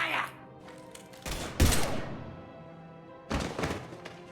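Bursts of gunfire erupt in a Mass Effect 3 firefight, a couple of sharp volleys with thumping impacts, separated by quieter gaps and ringing tails.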